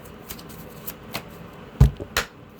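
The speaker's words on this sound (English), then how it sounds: "Make sure we get a good shuffle here." Quick ruffling card riffles with a few sharp snaps and taps, close by and fairly quiet, no talking.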